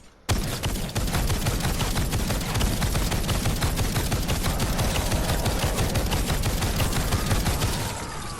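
Rapid, continuous gunfire from a steampunk weapon in Fortnite Save the World, a dense unbroken stream of shots hammering at a smasher enemy for about eight seconds, loud and steady with no talk.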